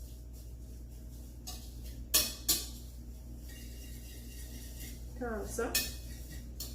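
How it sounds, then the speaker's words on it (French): A utensil stirs dry muffin ingredients with a pinch of salt for apple autumn muffins in a bowl, giving a few sharp clinks against the bowl and soft scraping, with a voice speaking briefly nearby. "On mélange bien les ingrédients secs"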